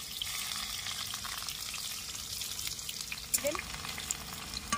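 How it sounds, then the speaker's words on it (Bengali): Chopped onion frying in oil tempered with cardamom and whole bay leaves, a steady crackling sizzle with occasional stirring clinks and faint background voices. "এবার একটা পেঁয়াজ কুচি নিয়েছি, এভাবে কুচিয়ে নিয়েছি, ফোড়নে দিয়ে দেবো। লাল লাল করে ভেজে নেব।"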